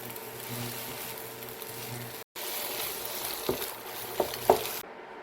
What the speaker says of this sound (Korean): 달구어지면 이렇게 풀어놓은 달걀을 구워주세요